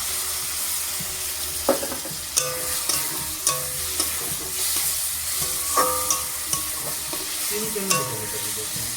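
Onion and potato fry in a pan while cumin and Kashmiri chilli powder go in, a continuous close sizzle punctuated by repeated scraping stirs and spoon clinks every half second or so.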